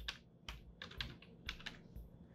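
Keys click on a computer keyboard as a short word is typed on a Windows 11 PC, giving about five quick, close, crisp taps at a steady pace with no talking.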